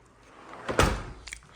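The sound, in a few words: front door of a house opening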